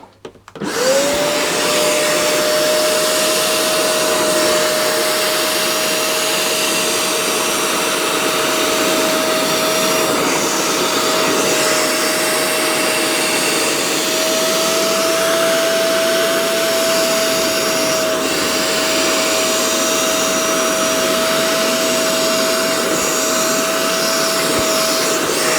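A Shark PX200UKT spot cleaner sucks liquid out of carpet: a loud, close, steady motor whine with a sustained tone starts abruptly and runs unbroken for about 25 seconds, with no talking.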